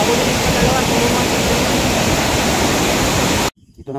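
Daranak Falls in Tanay, Rizal roars as a loud, steady wash of falling water close by, cutting off abruptly near the end.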